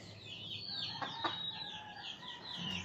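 Chickens on a gamefowl breeding farm cluck and call steadily for about three seconds, several birds at moderate distance with short overlapping chirps and no talk.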